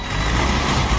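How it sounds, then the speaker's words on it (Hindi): Four YTO tractors, EF 804 and EX 880 horsepower models, running together on a dairy farm in Pakistan, a steady loud rumble of diesel engines without pause. "4 ट्रैक्टर चल रहे हैं।"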